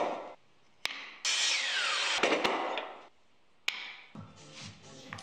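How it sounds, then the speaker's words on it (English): A jigsaw resaws a reclaimed wood board whose edges aren't straight, with bursts of loud buzzing, rasping cutting broken by short pauses and sharp clicks, close up. "sometimes the edges weren't straight, so I had to resaw them with a jigsaw"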